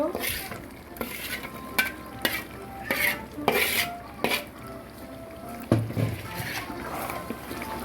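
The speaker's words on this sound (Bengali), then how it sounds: "এখন পেঁয়াজের বেরেস্তা দিয়ে দিব।" Fried onion crisps stirred into a pot of nearly finished chicken kosa, a spoon scraping and clinking against the pan in irregular bursts over a soft, steady sizzle, close by with no talk.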